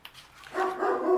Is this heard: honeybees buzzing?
no